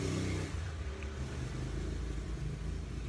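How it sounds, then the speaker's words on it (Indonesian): A motorcycle engine rumbles past at a distance, a low steady drone that fades slightly, fairly faint overall. "suara motor"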